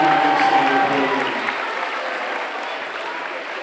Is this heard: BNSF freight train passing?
no